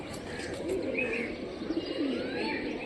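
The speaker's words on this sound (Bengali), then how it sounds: "এটা সবুজ কবুতর" Local racing pigeons in Rajshahi, including a green one, coo softly in a steady low murmur with a few brief chirps over a busy outdoor background.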